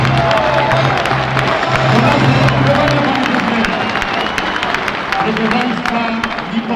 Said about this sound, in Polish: poproszę o brawa dla Pana Prezydenta!